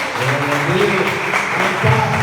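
Church congregation applauding after a sermon, a steady wash of clapping with voices and low murmur mixed in throughout.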